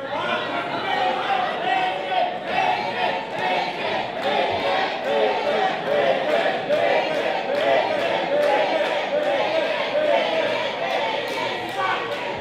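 A wrestling crowd at an IHW show cheers for Mr. Suave in a steady, dense roar of shouts and chatter. The noise holds loud throughout with no clear break, and voices mix through it.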